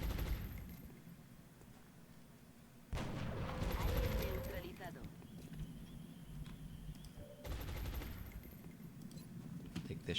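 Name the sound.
weapon fire from a shot in XCOM Long War video game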